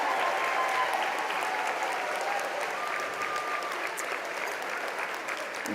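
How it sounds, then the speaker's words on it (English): Audience applause fills a banquet hall at a national convention, a steady, dense wash of many hands clapping that holds at an even level for several seconds, with a faint voice briefly audible beneath it. "Let's have another round of applause for our incredible"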